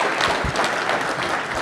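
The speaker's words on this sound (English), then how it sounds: "let's give them a round of applause" A crowd at a ward town hall meeting held in a Methodist church applauds the candidates, a steady, even wash of many hands clapping at moderate volume.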